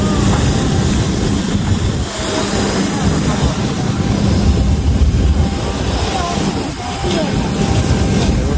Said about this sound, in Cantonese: 坐上飛機啦